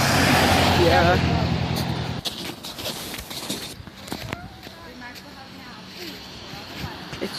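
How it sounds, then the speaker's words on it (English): A school bus rumbles loudly as it pulls up to a bus stop, its engine noise close for a couple of seconds before cutting down, then faint footsteps and outdoor ambience follow. "It's the bus. It's the bus."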